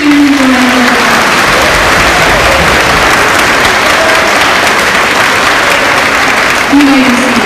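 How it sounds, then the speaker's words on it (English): Audience applause for eighth-grade honors students at a junior high school honors program fills the room as a steady, dense wash of clapping with a faint tone briefly sounding near the start and end. "Please give these students a round of applause"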